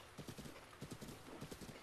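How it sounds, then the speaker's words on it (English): A horse gallops in The Legend of Zelda: Breath of the Wild, its hooves clip-clopping in a quick, steady rhythm close up amid the game's ambient sound. "Oh, slow down, horse, slow down."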